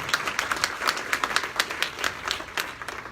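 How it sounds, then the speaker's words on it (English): An audience applauds honorees of a Class of 30 & Under event, a steady burst of clapping from many hands in a room, close and lively for a few seconds. "So give them a big round of applause right off the bat."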